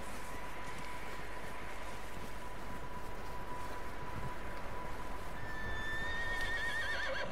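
A horse in the Red Dead Redemption 2 video game gives a wavering, high whinny near the end, over a steady hum and constant rushing ambient noise; hoofbeats are not distinct.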